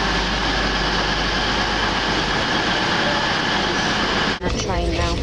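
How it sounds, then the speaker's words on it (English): A loud, steady rushing rumble of a train passing close by fills the clip, cutting off abruptly near the end as a voice begins. "He's looking at the trains."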